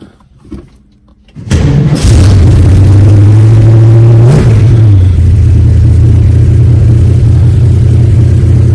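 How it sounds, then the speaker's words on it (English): A 1965 Ford Mustang engine cranks and catches on a cold start, then settles into a loud, steady idle that rises briefly around the middle before dropping back to an even, close-up hum. "This is a cold start here too."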